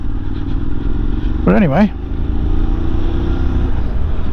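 A Honda motorcycle engine runs on a test ride, a steady close rumble throughout while someone speaks briefly over it.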